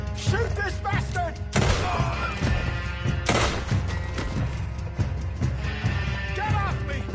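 Gunfire in Red Dead Redemption: repeated loud, sharp shots and booming blasts close by, mixed with shouting voices and scuffling thuds throughout.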